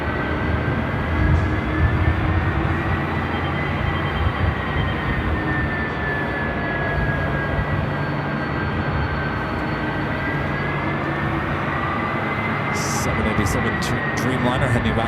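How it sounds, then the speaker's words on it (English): A KLM Boeing 787 Dreamliner departing for Amsterdam gives a continuous, loud, low engine roar with a steady whine that slowly shifts in pitch, while people talk over it. "Dreamliner heading back to Amsterdam."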